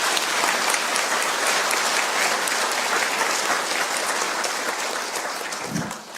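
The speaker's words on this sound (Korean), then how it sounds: "박수 쳐주세요." An audience claps together in a loud, sustained round of applause that starts at full strength and tapers slightly toward the end, with no voices over it.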